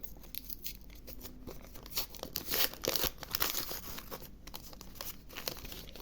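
Close, crisp crinkling and tearing of a paper packet, irregular rips and rustles that grow louder midway before settling back.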